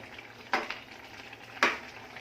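Tomatoes soften in a pan for a ghevda bean amti, with a quiet steady sizzle broken by two brief, sharper stirring scrapes.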